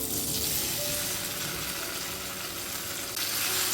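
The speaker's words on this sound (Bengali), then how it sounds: "এখন আমি এর মধ্যে এই আমলকিগুলোকে পুরো দিয়ে দিচ্ছি।" Whole amla (Indian gooseberries) frying in hot oil with panch phoron, a dense, steady close sizzle with no talk, swelling slightly near the end.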